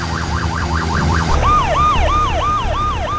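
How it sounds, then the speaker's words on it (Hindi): A fire engine siren wails continuously and loudly, first in a fast rising-falling cycle and then shifting to a slower swooping pattern over steady engine rumble as it races through a burning city. "तभी अपनी पूरी रफ्तार के साथ एक लाल दमकल की गाड़ी आग की लपटों को चीरती हुई आगे बढ़ती है।"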